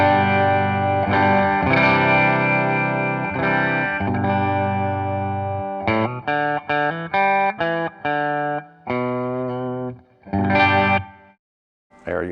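WestCreek Double Trouble double-neck electric guitar played clean on the six-string bridge pickup, sustained ringing chords followed by a run of short, choppy strummed stabs and a final decaying chord, loud and alone.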